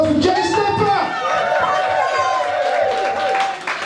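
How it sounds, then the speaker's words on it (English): An audience at a UK reggae dancehall showcase applauds and cheers, a dense, loud wash of clapping and crowd noise that holds steadily throughout. "Ladies and gentlemen, round of applause for Jay Stepper"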